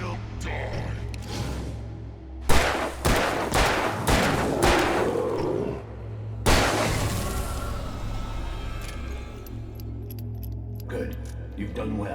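Gunfire in Alan Wake Remastered gameplay on PC: a cluster of sharp, loud shots in quick succession, followed after a pause by another burst, over a steady low game hum and ambient noise.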